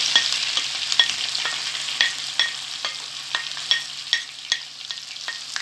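Leeks sauté in melted butter, a bright, close, continuous sizzle with regular scraping strokes of a spoon stirring them around the pan.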